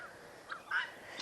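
Meat birds on a small farm give a short call in the morning, one brief squawk after a faint earlier note, close by and alone.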